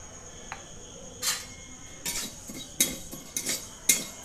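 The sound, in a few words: frying five-spice and mustard seeds in a wok for mango pickle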